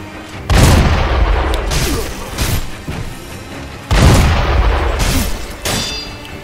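Enemy gunfire in the video game Sekiro comes as heavy, loud booming blasts, two big bursts with rumbling tails and smaller shots between.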